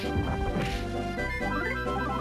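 A heavy smash attack lands in the role-playing game Mother 3, a loud crashing thwack followed by a ringing, tonal battle sound effect that decays over about two seconds.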